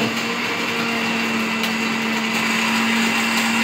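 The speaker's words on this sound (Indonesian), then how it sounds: "Jadi barang buktinya di blender dihancurkan, tapi dicampur dengan deterjen." An electric blender whirs at a constant high pitch, crushing seized narcotics evidence mixed with detergent during a police drug destruction event, running loud and steady throughout.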